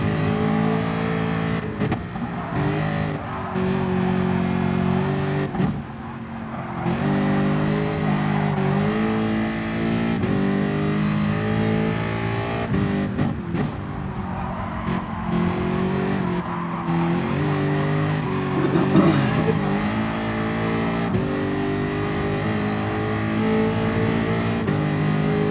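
Race car engines from a sim racing endurance event, loud and continuous, with repeated revving, gear changes and occasional tyre squeal and skidding, no talk.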